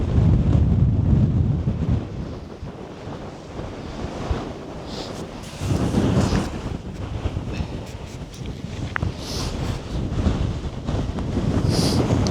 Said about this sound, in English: the wind is pretty strong today